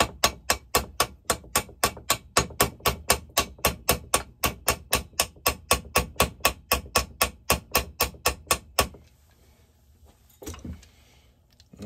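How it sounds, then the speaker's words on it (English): A hammer peens a bolt held in a vise during chainsaw assembly, about thirty evenly spaced sharp metallic blows for nearly nine seconds, then quiet with a faint handling clunk near the end. "And I peen you into that bolt"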